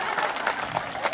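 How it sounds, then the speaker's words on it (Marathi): Brief burst of crowd applause at a village Home Minister game event during an urus festival, a short, dense patter of many hands clapping, moderately loud. "चला हा एकदा टाळ्या वाजवा यांच्यासाठी जोरदार"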